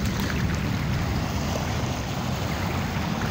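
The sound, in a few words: sea waves at Manila Bay shore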